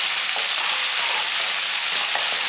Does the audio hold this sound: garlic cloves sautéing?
yes